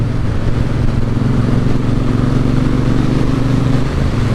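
A Triumph Bonneville Bobber motorcycle engine rumbles loud and close through its exhaust pipes, a steady low throb holding an even pitch while riding.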